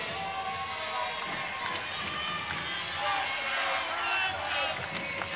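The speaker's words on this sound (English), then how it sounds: "crowd here in the background in Kalamazoo pumping up the Broncos on their senior day" A crowd cheers for the Broncos inside the Kalamazoo arena on senior day, a steady, dense wash of cheering and noise that runs under the whole stretch, with swells of louder cheering partway through.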